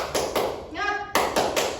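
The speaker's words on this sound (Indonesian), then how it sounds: "Ibu akan mengajak kalian dengan tepuk semangat." Schoolchildren clap the rhythmic tepuk semangat chant in a classroom, with sharp clustered claps, a brief pause, then another burst of claps close by.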